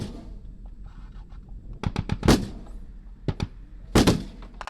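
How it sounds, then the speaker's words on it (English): Gunfire and sniper fire from Islamic State fighters on the outskirts of Mosul during a battle: several sharp, loud cracks spaced irregularly over a few seconds, some doubled, against a low rumbling background with no talk. "We've heard a whizzing sound overhead, which is sound of sniper fire or certainly gunfire coming in from Islamic State"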